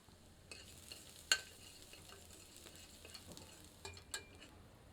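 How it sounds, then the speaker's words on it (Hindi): Soft, quiet sizzling of garlic frying in hot oil over low heat, with scattered small pops and crackles. "गर्म तेल में लहसुन सम्मिलित करते हैं। इसे धीमी आंच पर सुनहरा भूरा होने तक भूनते हैं।"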